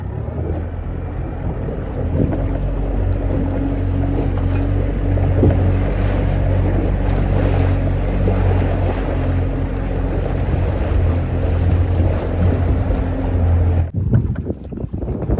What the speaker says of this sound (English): Got to get out of this wind.